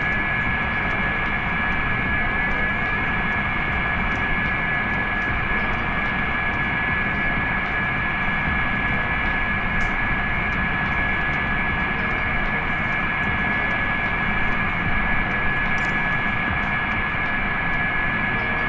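A Maddog jet airliner in the Microsoft Flight Simulator game spooling up for takeoff, a loud, steady engine roar with a sustained high whine held evenly throughout, no talking.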